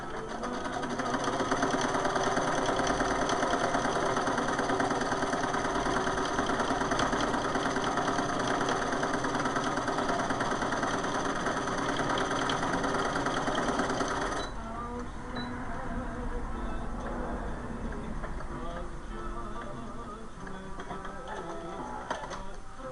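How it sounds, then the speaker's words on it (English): Domestic sewing machine running a steady straight stitch on a small hospital gown for an 18-inch doll, a continuous close motor whir that holds for about fourteen seconds before easing to a quieter, lighter rattle. "So I'm just doing a regular straight stitch."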